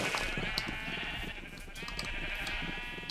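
Sheep bleating in the Minecraft video game, several short repeated bleats over a low busy background, moderately loud with no talking.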